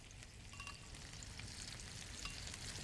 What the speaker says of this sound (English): I'm just spreading this around in the pan so that I can get some nice color on this sausage.